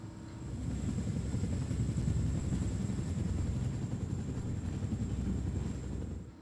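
A helicopter in Wolfenstein The New Order hums with a steady, low, throbbing rotor drone at moderate loudness. A faint high whine runs through the drone, which fades in at the start and holds throughout.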